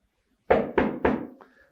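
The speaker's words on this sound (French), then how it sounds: "on tape à sa porte." Three firm knocks on a door, evenly spaced and close, with a faint higher tone trailing after the last knock.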